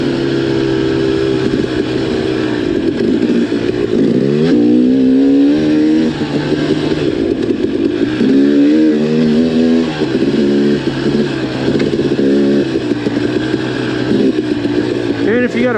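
Dirt bike engine riding a smooth, flowy ATV trail from Timberline to Hillerton in Taylor Park, Colorado, droning steadily close up with rising and falling revs as the rider shifts and accelerates throughout.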